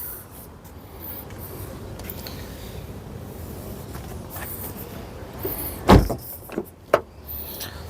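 Doors of a 2018 Nissan Rogue 2.5 AWD open and close: a quiet cabin rustle, then several sharp close clunks and latch thumps bunched near the end.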